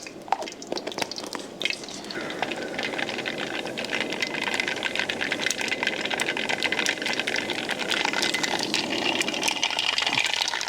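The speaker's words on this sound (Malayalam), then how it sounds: "എണ്ണ ചൂടായിട്ടുണ്ട് കേട്ടോ പിന്നെ നമുക്കതിലേക്ക് ഒരു രണ്ട് ടീസ്പൂൺ കടുക് ഇട്ട് കൊടുക്കാം" Mustard seeds sputter and crackle in hot oil in a pan, a faint, continuous busy popping with no voices.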